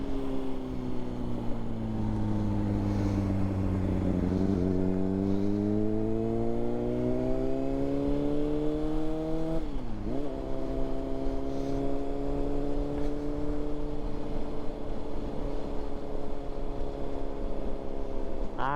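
A Honda CBR600RR motorcycle revs as it is ridden, its engine tone rising and falling through gear changes over steady wind rush, heard from the rider's position with no talking.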